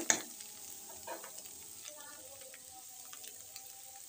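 Cabbage frying in a pan, shrinking and softening, with a sharp scrape of stirring at the start, then a quiet, steady sizzle and occasional clinks, faint and close with no talk.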